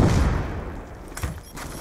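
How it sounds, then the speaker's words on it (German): A crossbow firing explosive arrows in the multiplayer shooter Black Ops 2: a loud, close burst of booming blasts that rumbles and fades, followed by a softer thump. "Der schießt anscheinend so. Ja, so Explosionspfeile, vermute ich mal."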